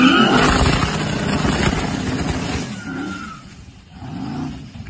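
All-wheel-drive twin-turbo Chevy donk, a four-door on stage 2 with 1200 horsepower, revving hard up close, the engine roar surging loud then easing off into a rougher lower rumble.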